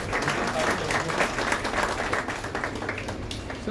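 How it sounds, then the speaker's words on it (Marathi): Audience applause at a Pune award ceremony held by Shiv Sena and Mahavir Hospital, a steady close wash of many people clapping that holds evenly from start to finish. "जोरदार टाळ्या वाजवायच्या त्याच्यासाठी"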